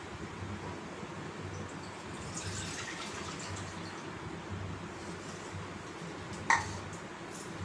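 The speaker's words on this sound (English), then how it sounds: "I have traditionally used our coconut milk extract. Let's pour it into the pan." Coconut milk extract pours into a pan in a home kitchen, a soft continuous liquid trickle and gurgle heard faintly and steadily, with a small sharp clink near the end and no one speaking.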